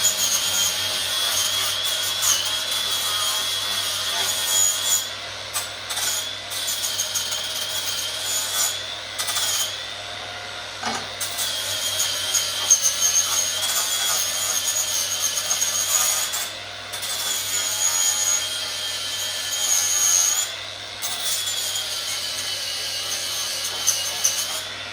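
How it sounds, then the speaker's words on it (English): Slag is scraped and rasped off the cut edges of a metal Land Rover switch panel, making a continuous close scratchy filing noise with short pauses and uneven strokes, no voices. "I'm going to just kind of get the slag off the edges of the part, clean it up, polish it up."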